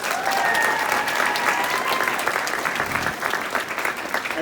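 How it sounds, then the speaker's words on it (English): An audience at a senior class event gives the speakers a loud, sustained round of applause, a dense continuous clapping wash with occasional cheers threaded through, lasting several seconds. "Let's give one big round of applause again for our speakers."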